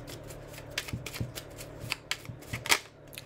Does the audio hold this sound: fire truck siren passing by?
no